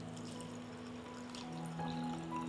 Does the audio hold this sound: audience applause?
no